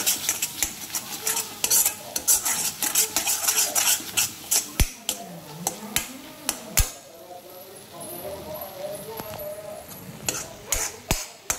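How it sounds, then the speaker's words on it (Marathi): Masala with red chili powder is stirred and sautéed in a pan for matar paneer: sharp metal spatula clicks and scrapes ring out over a soft sizzle, busy at first, easing briefly, then picking up again. "आता हे चांगलं परतून घ्यायचं."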